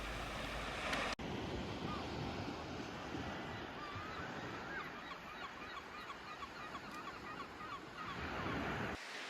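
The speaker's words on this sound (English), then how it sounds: "we set up our seats on the beach and simply soak in the location" Ocean waves wash onto Kilmurrin Beach, a sandy Irish beach on an autumn day, as a steady, fairly near surf roar, with faint bird calls over it and a brief knock near the start.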